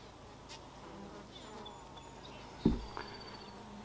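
Honeybees buzz faintly and steadily around an open beehive frame, a low continuous hum with a soft knock partway through.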